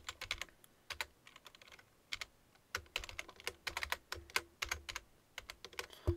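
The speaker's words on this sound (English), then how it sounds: "So I'm going to take and type back in the width." Close, quiet typing on a computer keyboard, bursts of quick key clicks separated by brief pauses, with no voices.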